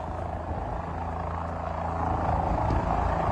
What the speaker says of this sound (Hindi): पानी का तेज बहाव और उसी बहाव के बीच में कैसे हेलीकॉप्टर्स के जरिए लोगों को रेस्क्यू किया जा रहा है